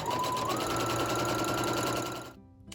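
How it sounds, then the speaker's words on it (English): Sewing machine stitching rows of fabric scraps for a dog dress, a steady fast mechanical whir with rapid needle ticking, loud and close, running continuously before stopping abruptly. "I'm going to take that to my sewing machine"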